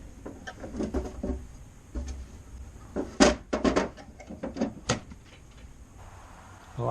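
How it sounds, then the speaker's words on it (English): Hidden drawers in a dresser, released by a concealed button, slide and knock open in a short burst of wooden clunks and scrapes, fairly close, with quiet pauses between. "There's a button under here, and it has secret drawers."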